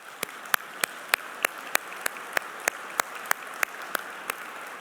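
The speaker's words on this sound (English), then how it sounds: "so let's give them a round of applause." Audience applause at a closing ceremony: loud, dense clapping from a large crowd, lasting throughout with a steady texture and sharp individual claps punctuating it.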